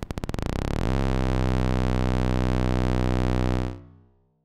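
No-input mixing board feedback oscillation starting as rapid clicks that fuse into a loud, steady, buzzing drone rich in stacked harmonics, drifting slightly before cutting off and fading near the end.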